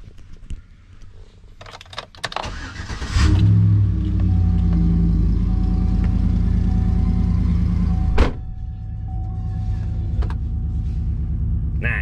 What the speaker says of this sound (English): This is actually a really nice Silverado.